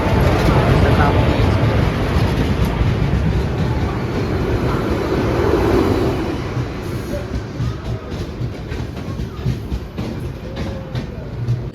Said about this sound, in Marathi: ही बघा, ही आहे आमची ट्रेन.